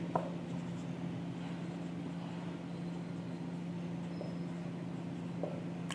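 A pen scratches across paper while writing out a journal entry, a soft continuous scribble close by over a low steady hum.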